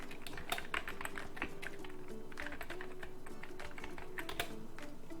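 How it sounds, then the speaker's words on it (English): Keys clatter on a computer keyboard as a title is typed, a quiet, fairly close run of rapid irregular taps with a few slightly louder strokes, no speech over it. "So you just type it in, hit enter,"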